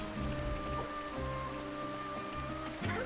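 Rain falls in the Xenoblade Chronicles video game as a soft, steady patter under layered tonal background music, quiet and continuous throughout.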